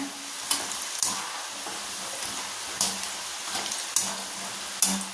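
Chickpeas sizzle and crackle steadily while frying in a pan for a crispy masala snack, with sharp pops and stirring scrapes recurring every second or so over a constant hiss.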